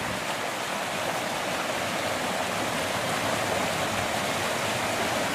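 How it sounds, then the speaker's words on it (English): A creek runs hard with year-round flow, giving a steady, full rush of water that stays loud and unbroken the whole time. No voices or other sounds interrupt it. "The creek runs hard all year long."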